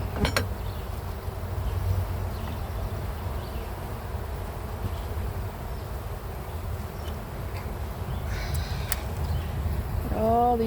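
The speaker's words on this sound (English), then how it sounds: "my next project is to get all these bees off the edge" Honey bees swarm around the edge of an open backyard hive, a dense continuous buzzing close by for the whole stretch, with a few brief clicks and a voice near the end.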